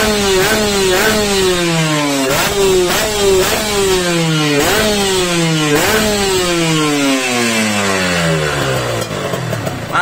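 A motorcycle engine fitted with a tuned Nibbi Black Series PWK 28 carburetor with adjustable power jet runs loud and close, revving up and dropping back again and again in steady repeated bursts, with no talking.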